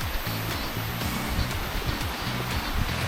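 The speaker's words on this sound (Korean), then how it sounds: "와 폭포 소리 너무 좋다." A steady, loud broadband rush of Towangseong Falls on Seoraksan, South Korea, in summer after rain, fills the whole clip, constant and close, with low rumbling underneath.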